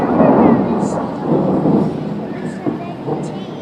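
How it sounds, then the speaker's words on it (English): Thunderstorm with heavy rain from a prehistoric documentary, a loud broad rumbling wash of downpour with rolling thunder swelling and fading across the clip, steady and close with no talk. "The rains finally fall and new things grow."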